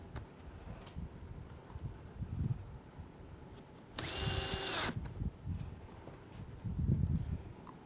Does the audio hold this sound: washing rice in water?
no